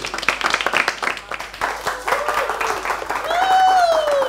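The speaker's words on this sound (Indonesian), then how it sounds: "Tepuk tangan untuk Aldi Faresi" An open-mic stand-up comedy audience applauds as a comedian takes the stage, brisk clapping that swells and sustains, with voices and a brief whistle-like tone rising near the end.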